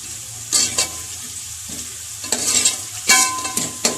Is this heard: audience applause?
no